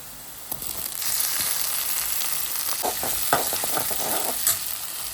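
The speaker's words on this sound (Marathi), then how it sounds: "आता मी टाकून घेते यात टोमॅटो." Tomatoes dropped into onions frying in oil in a kadai, a brief splash, then a loud steady sizzle with stirring scrapes and clicks close by, no voices.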